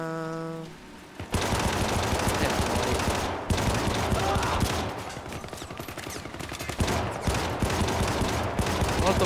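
Gunfire in the video game Syndicate, a loud, dense stream of shots and bursts that starts abruptly after a brief tone and continues almost without pause, with a few short gaps between volleys.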